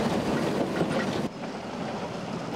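Train on a restored heritage railway in Tasmania, serving forestry and beekeepers, rumbles past with steady rail noise and a faint clickety-clack of wheels, loud and close throughout.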